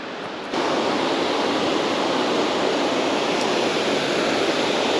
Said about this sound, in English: Actually, a lot of little rapids going through.